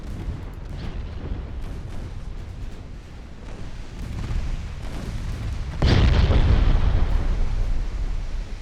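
A warship explodes from a flash fire in the naval video game Ultimate Admiral Dreadnoughts, with a sudden loud, deep blast that rises out of a steady rumble of battle and then sustains.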